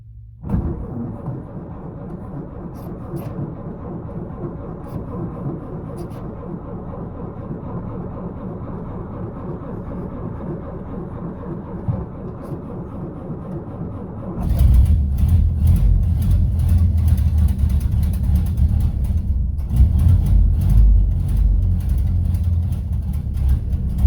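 A 1931 Ford Model A Coupe engine cranks with a steady low churning for about fourteen seconds, then catches and runs louder and rougher, close by with no talk.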